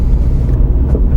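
A manual car in city traffic pulls away in third gear after an upshift, its engine a loud, steady, close low rumble with no voices.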